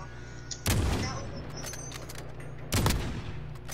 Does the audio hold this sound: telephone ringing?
no